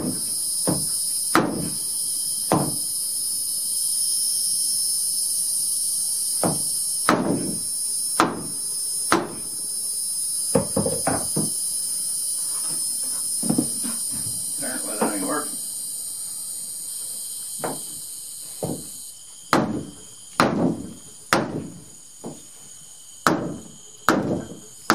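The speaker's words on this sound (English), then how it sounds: "sometimes you just need a bigger hammer." Sharp hammer blows strike at irregular intervals, loud and close, over a constant high insect-like drone, with a brief murmur of voices midway.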